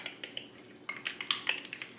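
A spoon clinks and scrapes steadily against a bowl while stirring yogurt sweetened with stevia, in rapid repeated taps with no talking.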